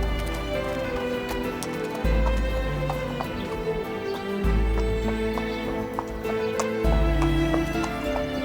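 A horse's hooves clip-clop steadily at a stable, the even beat running throughout over a sustained musical backdrop, close and fairly loud.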